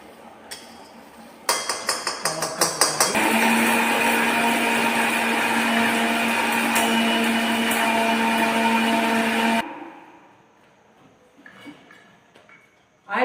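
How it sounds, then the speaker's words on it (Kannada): A kitchen mixer grinder whirs loudly and steadily, grinding roasted spices into powder for chicken masala, with a few short rattling pulses at the start before the motor runs continuously for several seconds and then cuts off. "ಎಲ್ಲ ಹುರಿದಿರುವ ಎಲ್ಲ ಮಸಾಲೆಗಳನ್ನು ಈಗ ಮಿಕ್ಸಿಗೆ ಹಾಕಿ ಪೌಡರ್ ಮಾಡ್ಕೊಳ್ಳೋಣ"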